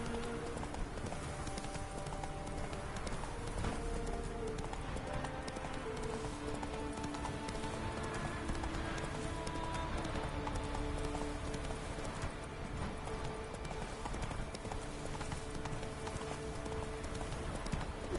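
Horse hooves clip-clop steadily at a gallop throughout in The Witcher 3 video game, a continuous rhythmic pounding under a faint musical bed, with an occasional whinny and light rain-like ambience.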